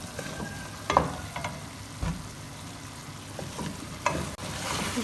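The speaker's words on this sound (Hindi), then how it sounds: "अरवी इसमें डालेंगे और अभी से 1 से 2 मिनट अरवी को इसके अंदर हम इसकी भुनाई करेंगे पहले।" Taro root fries in oil in a pan, a steady soft sizzle broken by several scraping clinks of a spoon stirring the pieces, close by and with no talking.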